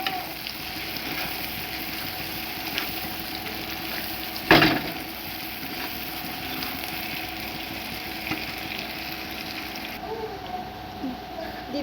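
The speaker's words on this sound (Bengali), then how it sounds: "পেঁয়াজ লাল হয়ে গেছে, দিয়ে দেবো আমরা মগজগুলো," Goat brains frying in a pan with browned onions and chillies, a steady close sizzle that runs throughout, with one brief sharp clatter of stirring near the middle.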